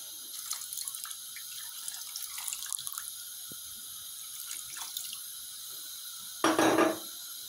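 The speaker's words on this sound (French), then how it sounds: "Maintenant, je vais rajouter de l'eau." Water is poured into a pot of rice and meat in a short splashing burst near the end, after faint kitchen clinks and drips over a quiet background.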